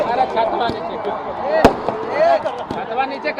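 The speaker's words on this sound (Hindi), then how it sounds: "देखिए, आतिशबाजी जो है वो शुरू हो चुकी है।" Fireworks go off during a Ravan effigy burning at Gandhi Maidan in Patna, a sharp bang and scattered crackles over a crowded outdoor din with someone talking throughout.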